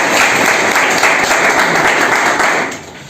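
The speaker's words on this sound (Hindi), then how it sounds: "एक बार सर के लिए जोरदार ताली" A hall audience claps loudly and densely for a teacher at a defence-academy event, a steady wash of applause that fades out at the end.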